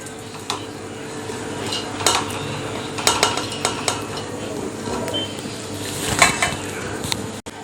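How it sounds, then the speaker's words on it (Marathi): A spoon spreads a layer of cooked rice in a pot for egg biryani, giving close, repeated metallic scrapes and clinks against the pot over a soft steady background, with no talk. "हे चमच्याने थोडंसं पसरवून घेऊया"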